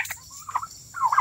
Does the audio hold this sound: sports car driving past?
no